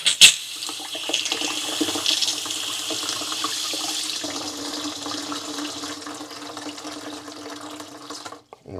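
Water gushes steadily from a freshly opened cold-water washing machine shutoff valve, a loud continuous rushing spray that settles slightly and then cuts off abruptly at the end.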